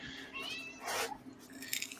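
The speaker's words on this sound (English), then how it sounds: "That's a very chatty kitty." A cat lets out a couple of short, chirpy meows up close, quiet and brief, with no one talking.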